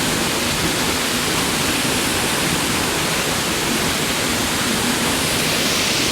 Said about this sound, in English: Got a fair bit of water flowing down here as well.